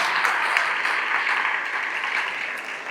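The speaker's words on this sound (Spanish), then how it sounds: "Quiero que le des un aplauso a Dios" A congregation at a church service applauds in a dense, steady wash of clapping that stays loud for three seconds and eases slightly toward the end.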